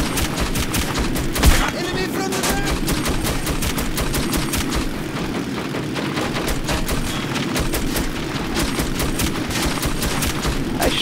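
Dense, rapid gunfire rattles almost continuously in the video game Metro 2033, loud bursts of automatic fire with a few heavier thuds layered over game noise.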